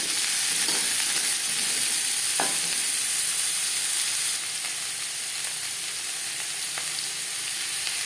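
Papaya pieces frying in hot oil in a pan, a steady close sizzle with faint stirring clinks, the hiss easing slightly partway through, and no talking.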